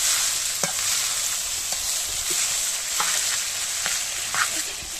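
Noodles stir-fry with beef in a hot pan under a bright, continuous sizzle. Scattered taps and scrapes of stirring punctuate it, close and fairly loud, with no talking.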